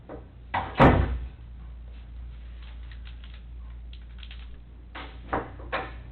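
An interior door swings open with a solid knock and rattle of the latch, followed by quieter shuffling, tapping and movement in a small room, then a couple more soft knocks near the end.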